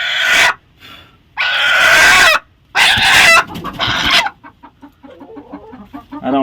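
Black Kadaknath chickens on an integrated farm in Odisha cluck and squawk loudly up close in several bursts, followed by quieter, rapid clucking and pecking sounds.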